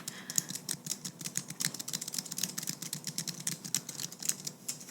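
Typing on a computer keyboard produces rapid, irregular clicking keystrokes that are close and crisp, continuing steadily without talking.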